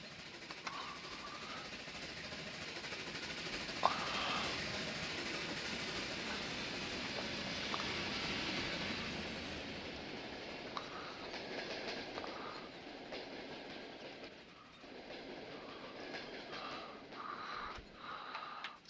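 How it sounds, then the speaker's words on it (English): Rhythmic clickety-clack of a CP H1 Empress steam locomotive's wheels in the Trainz railroad game, a steady rolling rattle over a continuous rumble that picks up pace slightly, alone without talk. "Let's see if we go up to speed more, if that changes the clickety-clack sound."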